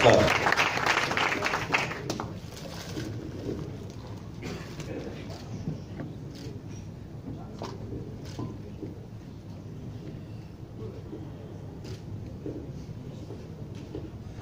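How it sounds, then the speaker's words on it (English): Applause from an audience at a presentation, a burst of loud clapping at the start that quickly fades into softer scattered claps under background murmur and talk. "Toref, David, please, round of applause"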